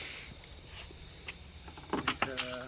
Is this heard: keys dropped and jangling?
yes